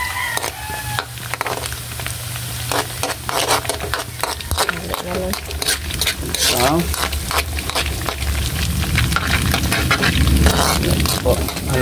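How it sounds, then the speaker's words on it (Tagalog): Garlic sautéing with rice in a pan for Filipino garlic fried rice, a steady sizzle and scrape of stirring close by, with faint voices in the background. "Gisa tayo ng konting bawang."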